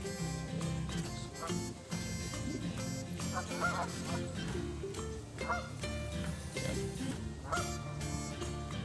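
A noisy flock of ducks and geese in a natural habitat, honking and quacking in a dense, overlapping chorus that carries on steadily throughout.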